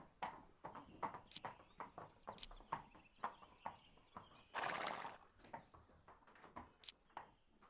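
Racehorse hooves clip-clop at a walking pace in the horse racing video game Gallop Racer 2004, with a few neighs and whinnies mixed in, fairly close and clear.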